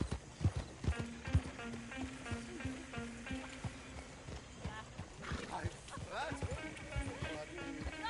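Horse-drawn stagecoach in Red Dead Redemption 2, steady clip-clop of hooves at a trot with wheel and harness rattle, under characters talking and background music.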